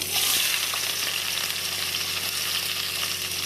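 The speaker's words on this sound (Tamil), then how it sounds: "மூணு வந்து பெரிய வெங்காயம் பொடிசாக வெட்டி வச்சுக்க அதை சேர்த்துக்கலாம்" Chopped onions fry in sesame oil with fennel seeds, a steady, close, bright sizzle that holds evenly throughout with no voices, cooking for a Chettinad chicken curry.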